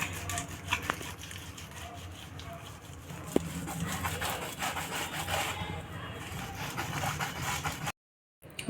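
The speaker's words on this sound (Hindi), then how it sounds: "गाजर घिसने वाले पर आलू को मैंने मैश कर लिया है।" Boiled potato being mashed on a carrot grater, a steady close rasping scrape repeated in a continuous rhythm, then a brief drop to silence near the end.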